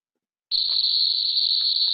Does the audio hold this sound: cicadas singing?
yes